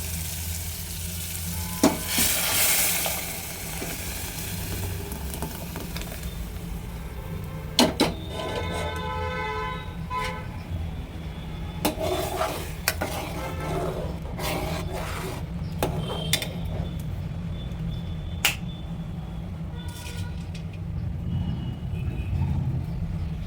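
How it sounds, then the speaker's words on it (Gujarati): Spices crackle and sizzle in hot oil as a home cook tempers dal, with a continuous frying hiss, scattered pops and sharp clinks of a spoon against the pan. "હાલો પહેલાં વઘાર નાખું દાળ."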